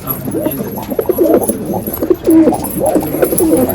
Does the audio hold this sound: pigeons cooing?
yes